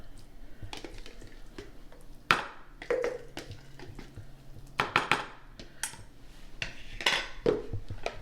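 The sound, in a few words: mixing cooled pasta with mayonnaise in a bowl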